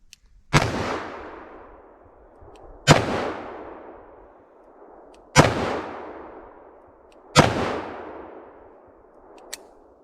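A Smith & Wesson Model 69 Combat Magnum revolver firing four Hornady 240-grain XTP rounds outdoors, each a sharp, loud report with a long rolling echo, spaced roughly two and a half seconds apart, with no speech.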